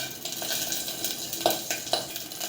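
Panch phoron spices sizzling in a little hot white oil, a close steady crackle with a few sharper pops and light utensil scrapes over about two seconds, no voices.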